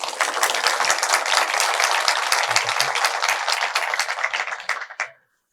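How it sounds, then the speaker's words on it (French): Audience applause during a French talk show, a dense burst of clapping that holds steady for about five seconds, then thins out and stops abruptly. "Je pense qu'on peut quand même l'applaudir."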